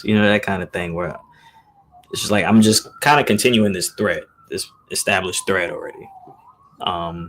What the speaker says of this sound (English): So there's some sirens passing by right now